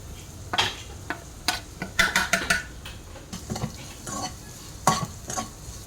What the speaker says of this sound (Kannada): ಈರುಳ್ಳಿ ಚೆನ್ನಾಗಿ ಫ್ರೈ ಆದಮೇಲೆ ಅದಕ್ಕೆ ನಾನಿಲ್ಲಿ ಚಿಲ್ಲಿ ಫ್ಲೇಕ್ಸ್ ಆ್ಯಡ್ ಮಾಡ್ತಾ ಇದ್ದೇನೆ